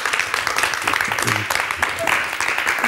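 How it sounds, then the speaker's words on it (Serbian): A studio audience on a television talk show applauds to welcome a guest, a dense, steady clatter of clapping lasting the whole stretch, with voices speaking over it. "veliki aplauz za Srđana"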